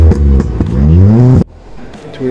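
A lowered Volkswagen Polo GT with a loud aftermarket exhaust revs hard at a youngtimer car event, its engine note climbing sharply in pitch before cutting off abruptly, very close and loud, followed by quieter idle.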